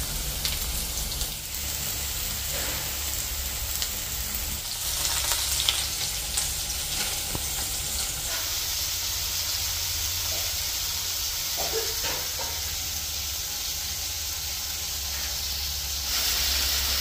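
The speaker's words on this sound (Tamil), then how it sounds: "முட்டை குழம்பு நல்லா அதாவது வந்து குழம்பு நல்லா கொதிச்சு கொண்டிருக்குது." Egg curry bubbling in a pot gives a continuous loud sizzling, hissing simmer that stays steady throughout, with a few faint clinks and no one speaking.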